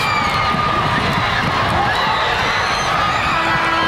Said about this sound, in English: you'll hear a cheer from both crowds